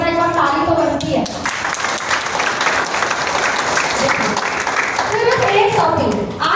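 An indoor audience claps loudly and steadily for several seconds, while voices talk over the start and again near the end.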